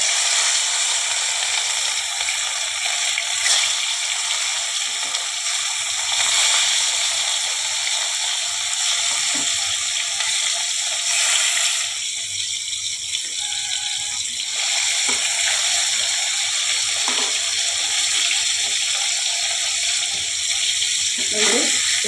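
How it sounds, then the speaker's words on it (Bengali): Shol fish frying in a pan with oil, a steady broadband sizzle running the whole time with occasional crackles and faint clatter, loud and close. "আমি এখন এটাকে ভেজে নেব"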